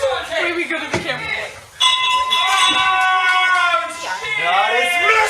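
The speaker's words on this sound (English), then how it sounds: "the bell has been rung on the judge" A bell is rung on a livestream, its bright ringing tone sustaining for a couple of seconds and returning near the end amid loud, excited voices.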